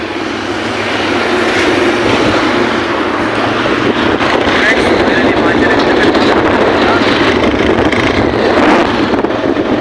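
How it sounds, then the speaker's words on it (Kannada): A motorcycle on a road near Shivamogga approaches and passes, its loud engine roar rising early and holding steady close by, with some voices mixed in. "ಒಂದು ಬೈಕ್ ಬರ್ತಾ ಇದೆ, ಕೈ ಮಾಡೋಣ."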